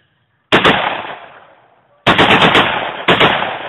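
A fully automatic Saiga 12 gauge shotgun with a 20-round magazine fires three loud, close bursts. Each one hits with a sharp onset and then trails off, with short silent gaps between the bursts.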